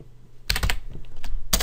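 A computer keyboard gives two quick bursts of typing, close and crisp, with a short pause between them.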